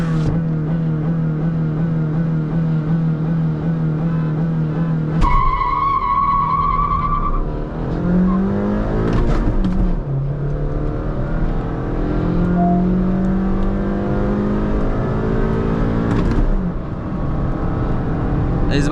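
A Hyundai Verna 1.5L diesel and a Honda City 1.5L petrol in a drag race, with loud engine roar shifting through gears, a tonal whine rising midway and steady road noise throughout, with no talk.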